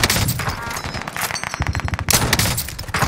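Rapid bursts of automatic gunfire in a first-person shooter match, loud and close, with dense rattling volleys nearly filling the clip and a brief break partway through.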